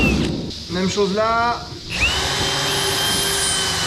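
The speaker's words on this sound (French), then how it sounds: "On va percer là." Power drill boring holes while upgrading milking robots, a short whining burst of the motor spinning up and winding down at close range, with someone speaking briefly over it and the drill then falling quiet.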